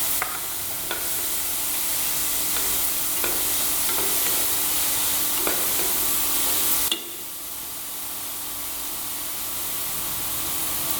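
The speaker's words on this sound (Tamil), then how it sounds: "இதோட நறுக்கி வைத்த ஒரு தக்காளியை சேர்த்து நல்லா வதக்கணும்." Chopped tomato sizzles in hot oil for crab soup, a loud continuous hiss with several light stirring taps, dropping to a softer sizzle near the end.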